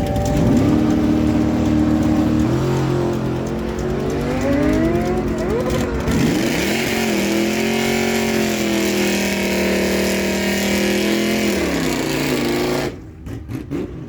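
A Yamaha R6 motorcycle and an Oldsmobile Cutlass drag race at a dragway. A high-pitched engine holds a steady loud drone, with pitch sweeps as it shifts through gears, then drops away at the end.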